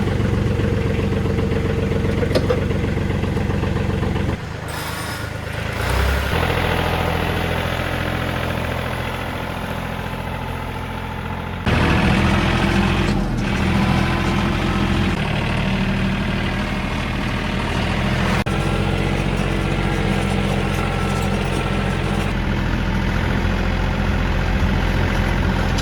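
A diesel tractor engine idles close by after starting on glow plugs, a steady low chugging rumble that shifts briefly a couple of times before settling into an even idle, with no talking.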